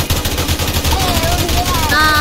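Two mini gunner towers in the Roblox game Tower Defense Simulator fire in a dense, rapid rattle throughout, while players talk over the shooting.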